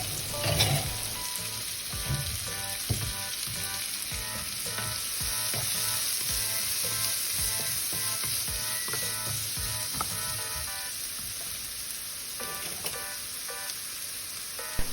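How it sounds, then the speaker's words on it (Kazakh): Onion and minced meat sizzle steadily in a pan, a dense continuous frying hiss with occasional scrapes and stirring clicks, close and alone with no voices. "Сондықтан пияз бен фаршымды осылай қуырып аламын."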